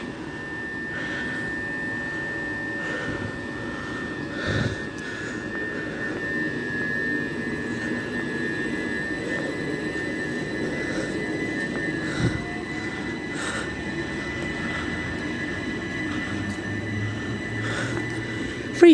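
A Class 375 electric train departs a station platform at night, a steady low rumble and hum with a high whining tone, occasional clunks over the rails, close and continuous with no talk.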